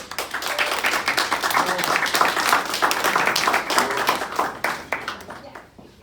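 An audience claps for a speaker at an insurance industry talk, a bright burst of applause that holds steady and then tapers off near the end.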